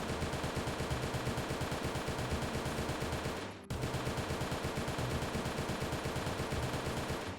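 Rapid, steady BPR-28 gunfire in the video game One Armed Robber, a dense continuous burst of shots running for several seconds, briefly cut off, then resuming at the same loud, even rate.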